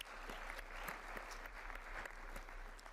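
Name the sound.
applause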